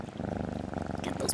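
A short, rhythmic, throaty purring rumble, close and fairly soft, seemingly a voice imitating a cat's purr.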